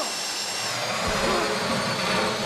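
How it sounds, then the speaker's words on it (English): A heist drill from GTA 5 Online whirs in a steady, loud, continuous grinding drone with a slight pitch shift partway through. "Oh man, this drilling is hard."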